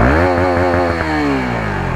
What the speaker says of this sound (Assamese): শেষত আপোনালোকক RPM এটা দি দিওঁ বাইকখনৰ মজাকৈ